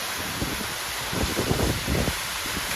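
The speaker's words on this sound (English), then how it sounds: "It's probably the closest I've ever gotten to a waterfall." Kaaterskill Falls pours onto rock in a steady roaring wash of water, dense and close, with irregular low thuds of splashing mixed into the constant hiss.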